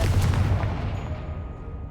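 A Confringo blasting spell cast in Hogwarts Legacy, a deep booming explosion at the start whose low rumble slowly decays and fades across the rest of the moment, with no voices.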